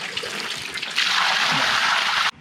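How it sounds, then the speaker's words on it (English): Water is poured out for birds at a Canning Stock Route stop in the Australian outback, a steady splashing gush lasting about two seconds and then cutting off abruptly, with no talk. "We just poured some of the water in here for the birds"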